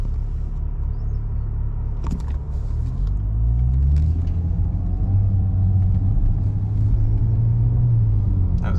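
A BMW with an N54 engine and Alpina-flashed transmission accelerating at about quarter throttle uphill, a deep steady rumble from inside the cabin rising in pitch with smooth gear shifts.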